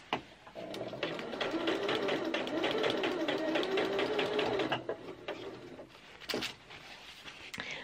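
A sewing machine runs a steady stitch through the groove of bias binding on a skirt hem, humming loud and close for several seconds before slowing to a few short bursts.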